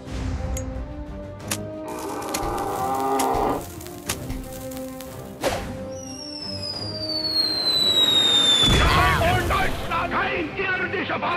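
A cow moos during a battle in the South Park The Stick of Truth video game, mixed with booming bursts, sweeping effects and character voices, the game sounds loud and busy throughout.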